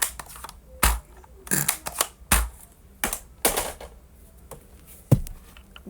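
Spring-loaded Nerf toy gun mechanisms fire with a handful of sharp plastic clacks and snaps, spaced unevenly and heard up close.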